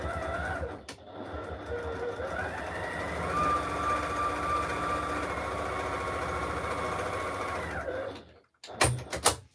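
Sewing machine stitching quarter-inch seams for a fabric basket, a close steady mechanical whir running for several seconds before it stops, followed by a few clunks and handling sounds.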